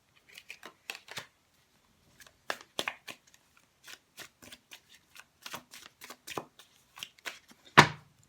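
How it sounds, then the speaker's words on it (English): Tarot cards are shuffled by hand in repeated crisp riffling bursts with short pauses, close up, ending in a louder slap of the deck. "I think we've shuffled well enough."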